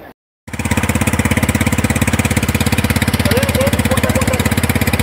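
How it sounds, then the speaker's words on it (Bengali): A quad bike engine, ridden by a child near water, runs close and loud with a steady, rapid throbbing pulse after a brief silent gap at the start. "এটা হচ্ছে কোয়াড বাইক।"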